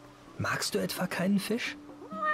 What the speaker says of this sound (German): Die macht Miau und das war's.